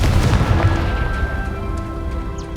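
A Confringo spell blast in the Hogwarts Legacy video game: a loud, booming burst that rolls into a rumbling decay with a sustained tonal hum, close and alone without talk.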